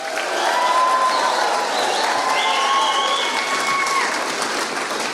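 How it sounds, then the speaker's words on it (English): Audience at an accordion band's 75th anniversary event breaks into loud sustained applause mixed with whistles, whooping and cheering, a full steady roar of crowd noise lasting throughout. "nice loud applause, a few whistles, bit of whooping, whatever, bit of cheering"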